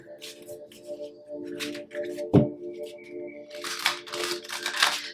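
Tarot cards shuffled in two rounds during a Pisces reading: papery riffling bursts and soft slapping of the deck, with a sharp thump near the middle, close-up with no talk.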